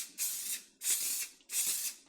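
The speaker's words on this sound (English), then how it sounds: "What you do need to do is spray this with some type of oil" Cooking oil sprayed over bread dough in three short, crisp hissing bursts with brief pauses between them, close and clear with no talk.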